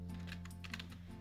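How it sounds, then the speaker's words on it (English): Quick, close keystrokes on a computer keyboard, a short burst of clicks over a faint steady electrical hum, with no speech. "I'm gonna type"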